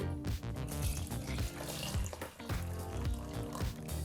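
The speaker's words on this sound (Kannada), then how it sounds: "ಈಗ ಈ ನೀರನ್ನು ಪಾತ್ರೆಗೆ ಹಾಕ್ಕೊಳ್ತೀವಿ" About one and a half cups of water pour from a mixer jar into a cooking pot in a home kitchen, a steady, close splashing that runs for a few seconds without speech.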